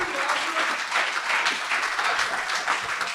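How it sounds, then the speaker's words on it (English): An audience at a Loudoun County Catoctin District candidate debate applauds, a dense, steady round of clapping from a roomful of people that carries evenly throughout. "let's have a round of applause for ourselves for coming here."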